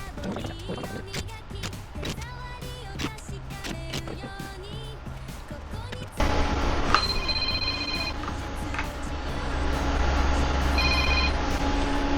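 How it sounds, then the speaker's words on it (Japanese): A telephone rings with an incoming call during camper van DIY woodworking, a repeating electronic ring pattern over steady room noise after an earlier stretch of tapping and handling sounds. "これ今電話かかってきたんですけど"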